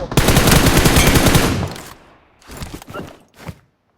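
Loud, rapid automatic gunfire in the video game PUBG, a dense burst lasting about a second and a half, then a few shorter bursts and scattered shots trailing off.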